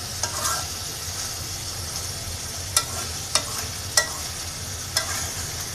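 Meat stir-fried in a pan: a constant low sizzle with a handful of sharp spoon scrapes and knocks against the pan spaced a second or so apart, close and clear.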